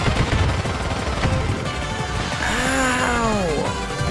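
Rapid minigun fire in the kart-racing video game Nightmare Kart, a dense continuous rattle of loud shots with a rising and falling whine partway through, and no talking.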